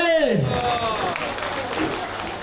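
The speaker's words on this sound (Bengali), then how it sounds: "সবাই একটা জোরে হাততালি" An audience claps for prize winners at a Ratha Yatra festival prize-giving, a dense, steady patter of hands that follows a brief announcer's voice and continues at an even level to the end.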